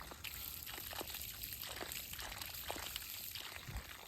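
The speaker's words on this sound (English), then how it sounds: "Really getting great water flow off the spring." Water from a developed spring on a farm pours and trickles steadily in a continuous, near outdoor stream, with no one talking.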